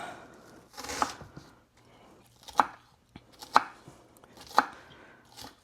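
A knife slicing through a spicy onion on a cutting board, four or five crisp separate chops spaced about a second apart, close and clear against a quiet room with no speech.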